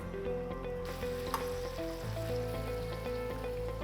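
Vegetable stock poured a little at a time over risotto rice in a hot pan gives a soft, steady sizzle and bubbling hiss, faint and close, with no talking.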